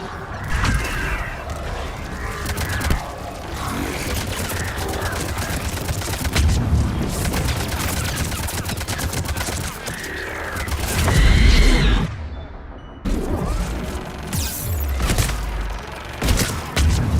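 Gunfire from a gunship in the video game Mass Effect 3: rapid, dense bursts of shots and booms over a rumbling battle bed, loud and nearly continuous, with a brief dropout before the firing resumes.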